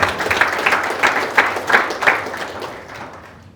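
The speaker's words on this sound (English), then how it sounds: "let's have a round of applause for creation of that" A room of people applauds during a talk on sustainable home design, a brief round of clapping with several louder accented claps, tapering off toward the end.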